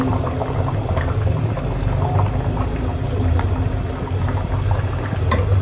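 Pieces of rui fish go into a pot already cooking with potatoes, setting off a steady, close bubbling and sizzling that holds evenly throughout.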